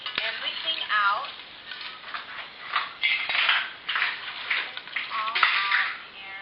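Tortillas frying and sizzling in a pan, a steady hiss with scraping and clinks of utensils and dishes, heard close at moderate level with no speech.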